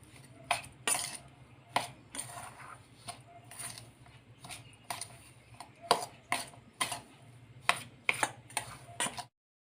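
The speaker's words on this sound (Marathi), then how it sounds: "आता हे सगळे मसाले एकत्र करून घ्यायचे आहेत" Spices being mixed together by hand for a masvadi filling, with a spoon clinking and scraping against a bowl in a steady run of sharp taps over a low background hum, close by and with no talk.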